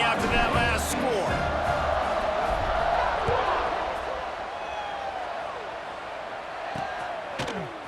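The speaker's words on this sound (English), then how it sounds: "this crowd is buzzing after that last score" Stadium crowd buzzing steadily in EA Sports College Football 26 during a Colorado vs Iowa State game, a dense roar holding loud through the opening seconds, easing slightly later, with a voice talking over it.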